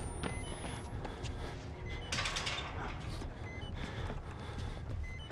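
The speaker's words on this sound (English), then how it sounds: "I wonder if I can open this door." Creaking, clanking door mechanism in the horror game Outlast, a continuous grinding of metal parts with ratcheting clicks, moderately quiet and without talk.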